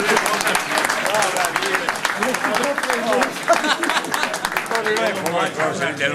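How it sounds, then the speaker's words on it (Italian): An audience bursts into sustained applause at a live trallalero folk singing event in Genoa, dense clapping heard up close with some voices mixed in. "Un applauso."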